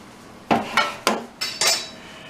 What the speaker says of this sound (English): Now we're going to go ahead and put it into our cake pans.